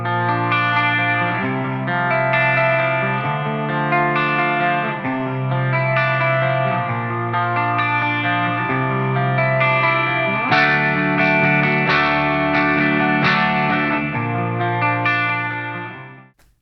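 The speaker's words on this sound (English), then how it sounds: "Let's also take a very quick listen to that with the guitars isolated." Distorted high-gain electric guitars run through a Kazrog AmpCraft 1992 amp plugin, heard isolated with no other instruments, playing a dense, continuous chugging riff that stays loud and steady, with hard picking and strumming, before cutting off at the end.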